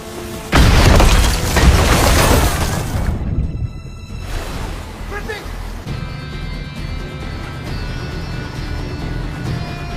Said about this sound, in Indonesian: Bishop justru malah membuat sebuah ledakan dari racikan yang sebelumnya dipersiapkan